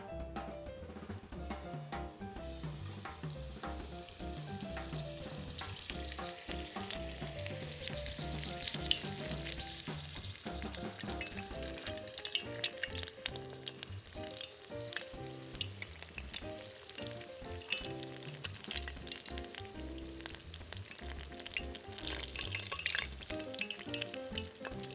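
Batter-coated bok flower fritters, Bengali bora, frying in hot oil give a continuous crackling sizzle, steady and close for the whole stretch with no voices.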